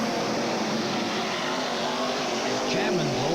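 Stock cars race around an oval track in a 1985 memorial event, a dense roar of engines under excited commentary, with a car's pitch sweeping past near the end.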